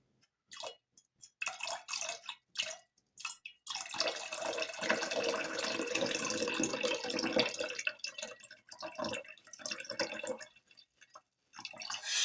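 Liquid is poured in a steady trickle for several seconds, framed by a few soft knocks and clinks of handling beforehand and afterward.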